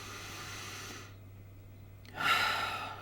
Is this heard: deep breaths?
yes